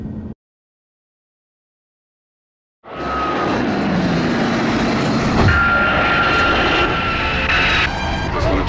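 A plane's engine drones in The Forest video game during a flight: after a short silence, a steady loud propeller-style engine roar comes in and holds, with a faint voice briefly underneath.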